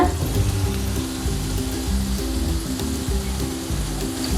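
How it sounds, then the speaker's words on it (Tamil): Chicken samosas deep-frying in hot oil, turned so both sides cook until golden, give a steady, loud, dense sizzle and bubbling that runs continuously throughout, with no voices over it. "2 பக்கமும் நல்லா புரட்டி போட்டு வேக விடுங்க."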